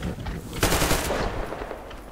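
Automatic gunfire from the video game Metro Exodus rattles in a rapid burst, fairly close and moderately loud, starting sharply partway through and carrying on in a dense stream of shots.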